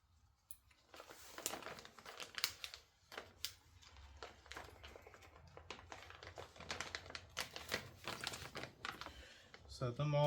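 Motorcycle decal stickers for a Honda 400EX being pulled out of their plastic packaging nearby, with repeated crinkling, rustling and tapping handling sounds, someone talking at times over the quiet clatter.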